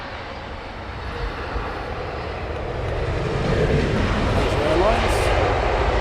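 An Airbus A350 on approach to Heathrow runway 27R, its engine roar a steady broadband rumble that swells gradually as the jet draws nearer, with voices talking over it.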